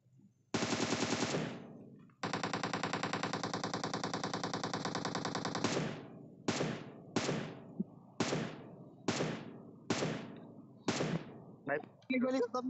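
Automatic weapon fire in the PUBG Mobile battle royale game: a long sustained burst, then a series of short repeated bursts with brief gaps, loud and close, with players talking in between.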